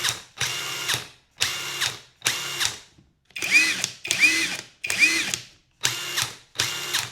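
DeWalt cordless impact driver runs up from zero to full trigger in repeated bursts, about nine loud whirring pulls separated by brief pauses, each ramping quickly to a steady high-speed whine.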